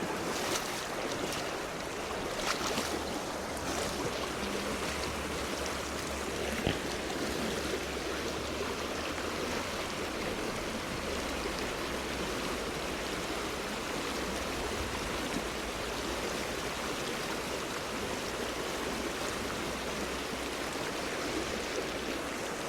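Pocket water in a Welsh trout stream rushing steadily over rocks: a broad, constant hiss and burble of flowing water, close and unbroken, with low rumbling underneath.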